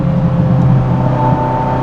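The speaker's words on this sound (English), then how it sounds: "Just all sorts of cool turbo and V8 noises, complemented by the bangs and the gunshots going off behind." A turbocharged V8 car engine droning steadily from inside the cabin, a loud continuous low rumble with a faint whine above it and no talking.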